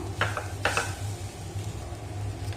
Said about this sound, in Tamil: இப்போ ஒரு நிமிஷம் வதங்கட்டும்